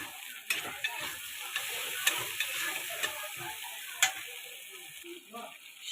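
A grated ginger, garlic and whole coriander paste sizzles in hot oil in a pan for fish curry, a steady close frying hiss punctuated by sharp clicks of stirring and scraping.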